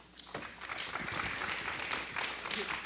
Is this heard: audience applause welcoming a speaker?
yes